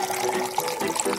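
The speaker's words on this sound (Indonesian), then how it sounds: "Tuangkan kolanya." Cola poured into a blender for a sorbet-style ice cream, a steady fizzy liquid splash running for just over a second, close and fairly loud with no talk.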